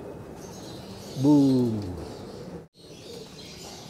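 At a pigeon loft under overcast skies, a racing pigeon gives a single soft cooing call up close against a quiet outdoor background, with a brief spoken word just before a short drop in level.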